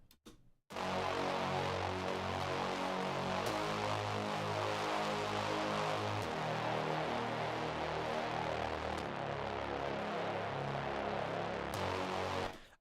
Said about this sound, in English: I'm just going to play this bass sound for you